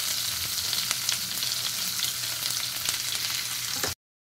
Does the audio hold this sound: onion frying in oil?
yes